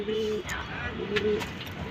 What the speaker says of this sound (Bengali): এর মধ্যে আমি এক পেয়ার কবুতর এই ধাপড়ির মধ্যে জোড়া লাগিয়ে দিছি